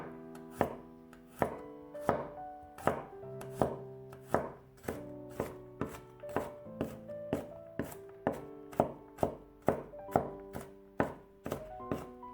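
A knife slices peeled garlic cloves thinly on a cutting board, about twenty crisp, evenly paced chops close by with quiet gaps between them.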